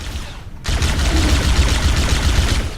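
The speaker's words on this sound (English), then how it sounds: "Plasma gun. I staggered him." Plasma rifle firing continuously in Halo: Combat Evolved on the Pillar of Autumn level, a loud, dense stream of rapid energy bolts starting abruptly and sustained throughout.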